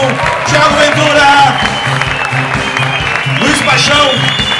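A live stand-up comedy show audience applauding, a steady wash of clapping and crowd noise mixed with loud music that stays prominent throughout.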